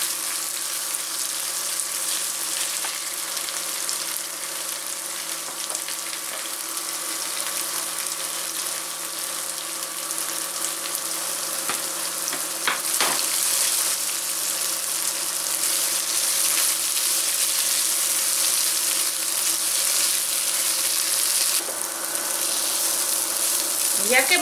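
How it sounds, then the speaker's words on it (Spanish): Vegan chorizo made from hibiscus flowers sizzles steadily in a pan, a constant close crackling hiss lasting throughout with little change. "Y lo vamos a freír. Que quede bien doradito."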